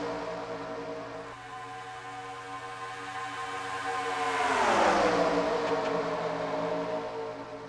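Race cars in a NASCAR Cup Series video game at Kansas roar as the field accelerates off the start, the engine drone rising into a swelling pass midway before easing off, with no one speaking.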